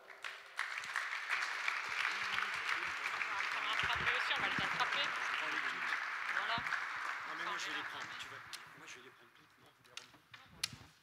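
Audience applause at a French Tennis Santé colloquium, honouring representatives of labelled tennis clubs: sustained dense clapping that holds steady for most of the stretch, then thins out and tapers near the end.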